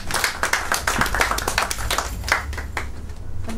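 A small audience claps after a poetry reading, a dense burst of hand claps lasting a few seconds at steady strength with no voices.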